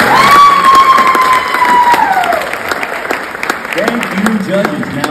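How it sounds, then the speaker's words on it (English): An audience applauds after a dance performance at a Look Who's Dancing show, with loud, dense clapping and some cheering that fills the whole stretch while someone speaks over it through a microphone. "Another round of applause for Sandy Goldband, everybody."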